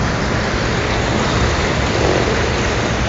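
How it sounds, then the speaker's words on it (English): Heavy tropical rain pouring steadily at a resort in Trinidad, a loud, dense, unbroken roar of drops on surfaces with no gaps or voices. "look at how much it is raining."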